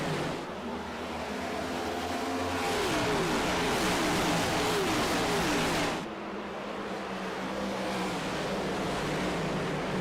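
Race cars in a Zero Torque Racing League video game at Iowa Speedway roar off the start together. Loud layered engine revving climbs in pitch, a dense continuous roar that eases slightly after a few seconds.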